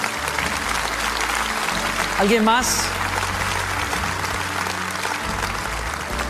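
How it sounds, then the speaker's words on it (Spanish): Congregation applause at a Spanish-language church service, a steady broad wash of clapping throughout, briefly swelling near the middle, with someone speaking over it. "Denles un buen aplauso a ellos, a nuestros hermanos."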